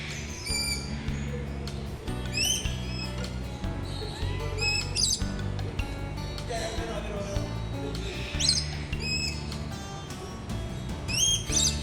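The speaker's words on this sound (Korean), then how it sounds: "나뭇가지에 앉아 기분 좋은 새소리를 내며 몸을 흔들고 있는 모습을 보고 있으니" Birds in a bird park in Gyeongju chirp and sing in short, repeated high bursts throughout, over a steady hum of background sound.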